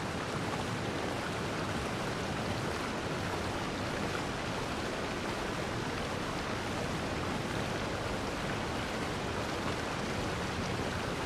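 Steady, dense rush of a waterfall in Genshin Impact, a broad unbroken hiss of falling water at constant level with no talk over it.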